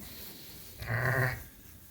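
A single Suffolk sheep, a mother ewe, lets out one loud, close bleat lasting about half a second, with quiet farmyard background before and after.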